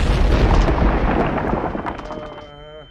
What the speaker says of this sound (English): A sudden nearby explosion